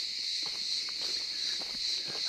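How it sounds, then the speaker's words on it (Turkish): Crickets chirp in the morning along a coastal Mediterranean trail, a constant high-pitched trilling drone, with soft footsteps crunching underneath. "Cırcır böcekleri mesaiye başlamış bile."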